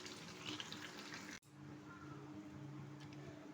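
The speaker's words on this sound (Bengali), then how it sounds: "মাংসটা কুকারে দিয়ে এবার উষ্ণ গরম জল দিয়ে দিতে হবে।" Warm water poured from a height onto mutton in a pressure cooker, a steady splashing pour that stops briefly and then continues, fairly close.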